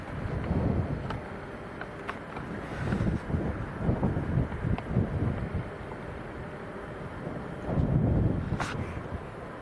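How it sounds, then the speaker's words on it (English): Strong gale-force wind of around 40 mph gusts and buffets across an open microphone at Leeds Bradford Airport, a steady rushing roar that swells in several surges. "The wind's blowing a gale from our right to left as we look at it."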